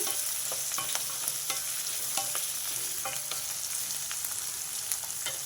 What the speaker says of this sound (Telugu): ఉల్లిపాయలు పచ్చిమిర్చి వేసేసా ఈ ఉల్లిపాయ పచ్చిమిర్చి కొంచెం వేగాలి